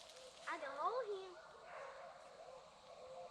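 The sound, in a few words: hunting hounds barking on a deer dog drive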